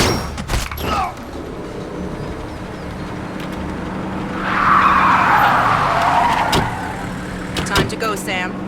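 A car pulls up and skids to a stop in Splinter Cell: Conviction, engine noise and tire squeal swelling in the middle of the clip over game ambience, with a few sharp impacts around it.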